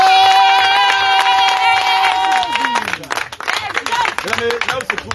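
A church congregation breaks into clapping during a worship service, a burst of scattered hand claps taking over after sung, sustained music fades out.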